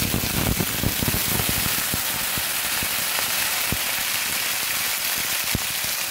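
A splash of water hitting a hot pan of frying spices for a banana-flower cutlet filling sets off a dense, even sizzle, close and loud throughout, full of rapid crackling like rain on a surface.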